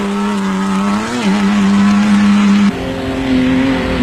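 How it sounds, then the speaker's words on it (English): A Porsche-powered Raceco off-road race car drives in the 1991 Toyota 1000 off-road race in South Africa, a loud close steady engine drone with a brief dip and a gear change partway through. "saw Bux Carolyn and Kenny Scholthammer in the lead in the Porsche-powered Raceco"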